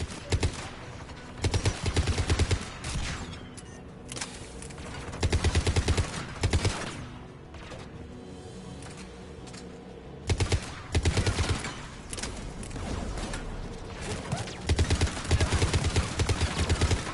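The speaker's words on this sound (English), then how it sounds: "AA guns ahead of us" Anti-aircraft guns firing in Mass Effect 3, heavy bursts of rapid thudding fire repeating every few seconds, loud and near, with steady battlefield rumble between volleys and no talk.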